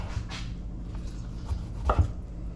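A knife chops a tomato on a cutting board in a handful of separate soft thuds, close and fairly quiet against faint outdoor background noise, with no one talking.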